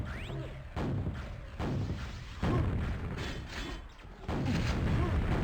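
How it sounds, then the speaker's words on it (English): Rockets fired in a QuakeWorld duel land in a series of heavy booming thuds and explosions, roughly every second or so, loud and close with mechanical game noise between hits. "That pair of rocket coming in from Iggy was just brilliant."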